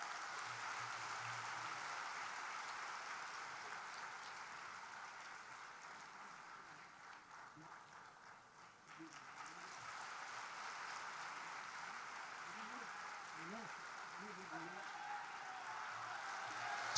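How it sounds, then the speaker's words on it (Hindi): An audience at a spiritual gathering in a camp at Haridwar applauds, a soft, steady patter of clapping that thins in the middle and swells again, heard at a distance. "तालियों की गूंज में उनका सम्मान।"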